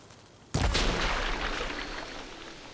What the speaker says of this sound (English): Why is there a water explosion?